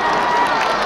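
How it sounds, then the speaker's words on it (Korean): Concert audience at a university festival show, a brief dense wash of cheering and applause from a large crowd. "여러분 다시 한번 큰 박수 부탁드리겠습니다"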